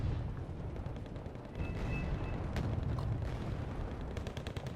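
Heavy short-range artillery barrages from both sides in the Wargame Red Dragon strategy game, a dense rumbling roll of booms and gunfire that builds midway, with no talk.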